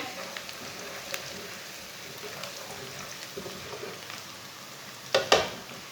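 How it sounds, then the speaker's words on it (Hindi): Garlic frying in a pan for a potato and cauliflower dish, a soft steady sizzle with occasional light stirring taps and a couple of louder clinks near the end. "लहसुन को भी 1 मिनट तक भून लेंगे।"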